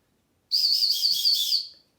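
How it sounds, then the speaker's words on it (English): The built-in whistle on a Buck Selkirk knife blown once, a shrill, warbling high-pitched tone held for just over a second, close and clear with no talking. "There's actually a whistle on this thing."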